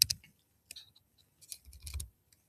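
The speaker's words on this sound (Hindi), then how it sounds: "यहाँ पर जैसे मैंने टाइप किया" Typing on a computer keyboard, a few sparse, faint clicks and short clusters of keystrokes, close and quiet with no voice over them.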